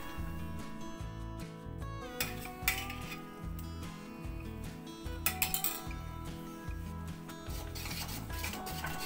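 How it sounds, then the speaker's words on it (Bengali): Palm fruit pulp goes into a wok for palm modak, with a utensil scraping and rubbing against the pan and a few light metallic clinks, under steady background music. "কড়াতে তালের পাল্প দিলাম"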